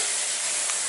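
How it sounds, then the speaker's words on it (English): Steady, dense hiss of water spraying from an overhead shower head, constant and fairly loud throughout with no voices. "That is just a really nice rain shower there."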